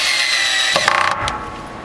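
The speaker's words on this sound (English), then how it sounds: "just running some screws down in here" A power drill drives screws into wood in a brief close burst: a whirring, ratcheting run that tails off after about a second into a quieter hum.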